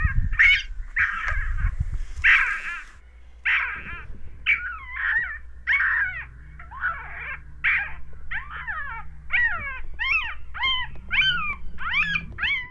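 A series of high, wavering yips and howls from an adult female coyote, rising and falling in short bursts, fairly close, with a low hum beneath.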